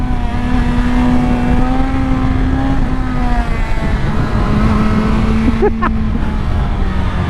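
A BMW M 1000 XR motorcycle engine at speed, a steady loud whirring drone with a rising and falling pitch that holds throughout, wind rush beneath it and a brief sharper burst near the end.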